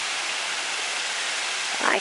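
Constant rushing spray of a waterfall at Shangri-La Arch in Carter Caves, Kentucky, close and steady for a brief moment, with a faint voice starting at the very end.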